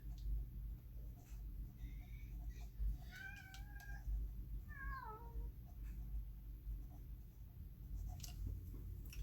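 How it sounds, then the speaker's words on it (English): Several cats meow in quick succession, a handful of short, faint calls against a steady low background hum, with no one speaking. "the cats are meowing up a storm"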